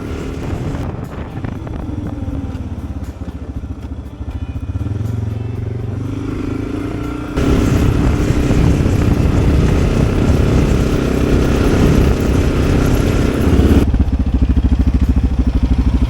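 Dual-sport motorcycles ride along a highway, a loud continuous engine drone heavy with wind rush that rises and surges midway as the bikes speed up, steady throughout.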